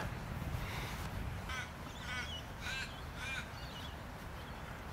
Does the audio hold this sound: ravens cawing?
yes